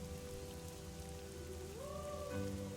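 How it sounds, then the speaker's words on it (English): Steady rain pattering on a surface on the main menu of the video game Fall of Porcupine, a continuous soft, faint patter with a low sustained musical tone that slides upward beneath it, no voices. "It's raining now in the main menu."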